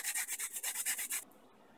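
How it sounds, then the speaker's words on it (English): Rapid rhythmic scraping of sandpaper rubbing back and forth over a steak knife handle being repurposed, about ten quick strokes, then it stops. "I'm just going to go around, sand it down"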